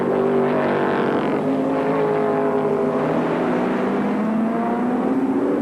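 Sports sedan race cars, including a Ford Falcon, racing at Sandown circuit in 1984: a continuous loud engine roar with shifting, overlapping pitches as cars pass and accelerate through traffic.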